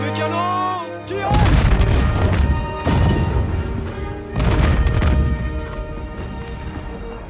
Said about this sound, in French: À tous les canons, tirez!